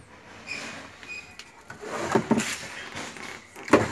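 Wooden drawers in a camper trailer slide and knock, giving several short scraping and thudding bumps of varying loudness close by.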